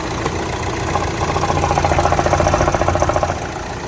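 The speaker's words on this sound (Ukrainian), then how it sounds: "Двигун працює рівномірно, його не трясе" An Opel car engine idles steadily without shaking, with a rhythmic mechanical pulsing that grows more pronounced in the middle before settling.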